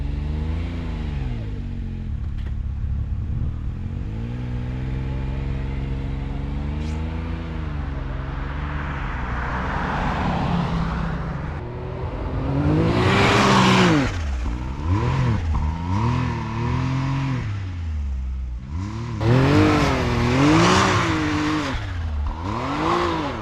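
Utility side-by-side engine revving hard and surging as it pushes through a deep snowbank while breaking trail, rising and falling in repeated bursts, loud and close.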